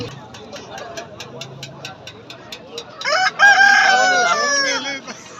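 A rooster crows loudly and close by at a poultry market in Sawabi, Khyber Pakhtunkhwa, a long drawn-out call following a stretch of quieter clucking and soft rhythmic tapping.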